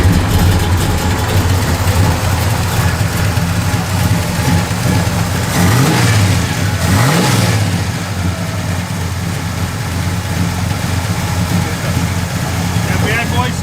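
A 1970 Chevrolet Chevelle SS running on pump gas idles with a deep rumble and gets a couple of quick throttle blips partway through, its engine loud and close.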